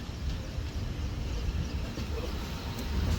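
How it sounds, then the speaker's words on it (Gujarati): A Mumbai local train runs with a steady low rumble and rattle of carriages, heard from inside at moderate loudness without a break and with no talking. "આપણે ટ્રેન ચાલુ થઈ ગઈ છે"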